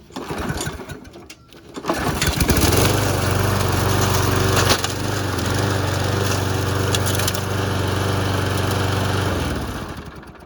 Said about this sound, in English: we're just gonna run over some stuff with the lawnmower now